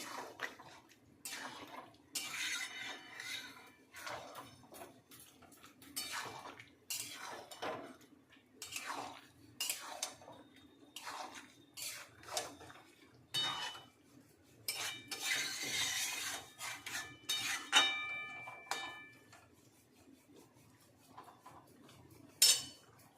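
Chilli soybean is stirred in a pan, with repeated metal scrapes and clinks of a spoon against the pan in an uneven rhythm, close and moderately quiet, with short gaps between strokes.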